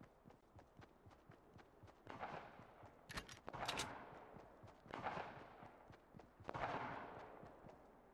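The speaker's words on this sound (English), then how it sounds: "Okay, I hear shots." Fortnite gunfire pops in quick irregular bursts, faint and distant. Rapid footsteps patter throughout, and a few louder clusters of shots rise above the low background.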